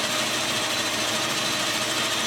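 An old lathe cuts brass to make a put-and-take spinner, giving a dense, constant buzzing whir at close range with no pauses or voices.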